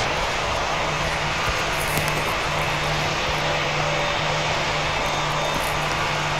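A Qantas Boeing 737 in a flight video game produces a steady, loud, broadband engine roar with a faint constant hum underneath, unbroken throughout.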